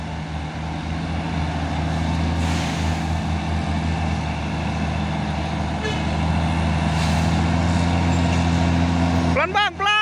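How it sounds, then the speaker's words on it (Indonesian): A Hino trailer truck rumbles past close by with a deep, droning engine, and a brief squeaky hiss sounds near the end. "Oh, ini ada lagi truk trailernya. Trailer Hino."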